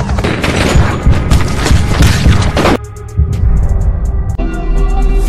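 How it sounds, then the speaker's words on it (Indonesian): Repeated gunfire from police shooting in an action film scene rings out as a dense burst of loud, overlapping shots, followed by a series of sharper, separate bangs with short gaps between them. "para polisi di belakang Dalton menembaknya secara beruntun"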